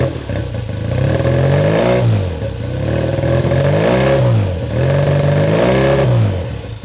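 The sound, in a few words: classic motorcycle engine idling and revving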